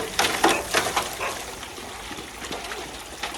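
A wolf spills and splashes water, producing several wet slaps and trickling splashes early on, then quieter dribbling with a faint splash near the end.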